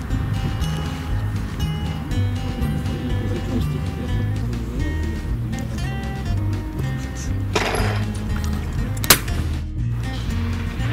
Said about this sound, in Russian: для Михалыча отличный выстрел был бы